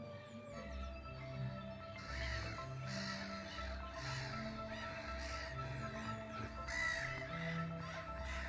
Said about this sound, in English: there are always a ton of black-headed gulls nesting there, as I'm sure you can hear